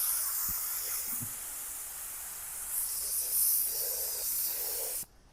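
An HVLP paint spray gun hisses continuously and loudly at close range, with a few soft clicks, then cuts off abruptly.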